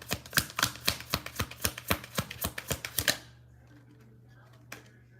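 Tarot cards for a psychic reading being shuffled in crisp, rapid riffling snaps, about a dozen sharp taps over three seconds, then near silence with one faint tap; a low steady hum runs underneath.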